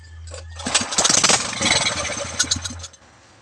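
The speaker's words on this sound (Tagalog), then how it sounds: "So umandar yung makina guys" A single-piston gasoline engine, just repaired at the carburetor, cranks and catches, sputtering loudly into an uneven running chatter for a couple of seconds before cutting back to quiet.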